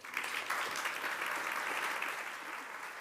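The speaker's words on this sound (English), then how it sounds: "A huge round of applause for that whole panel" Audience at a London Tech Week 2023 panel session applauds the whole panel, a dense, steady wash of many hands clapping at moderate volume, sustained evenly without a break.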